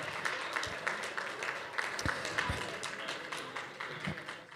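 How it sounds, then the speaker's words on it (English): Applause from the audience at a benefit auction after a winning bid, a fairly faint patter of scattered clapping with a few sharper taps, continuing for several seconds. "give a big, big round of applause"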